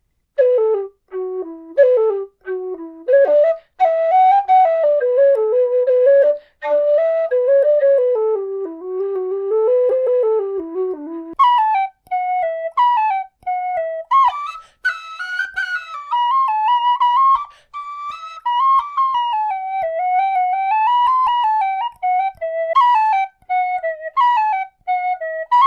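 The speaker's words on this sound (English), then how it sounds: "So let's have a little listen to how some of these instruments sound." A bright carbon fibre tin whistle plays a lively melody alone, with quick ornamented notes and short breaths between phrases, shifting to a higher register midway.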